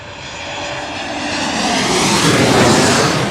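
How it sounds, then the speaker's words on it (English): A JetBlue airliner arriving from Boston roars in to land at LaGuardia, a loud, broad engine rush that swells steadily and stays close throughout. "That was JetBlue 6831 from Boston just coming in."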